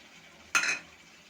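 A utensil scrapes once through chicken curry with chopped tomato and capsicum in a pan, a brief soft clink and stir against quiet background.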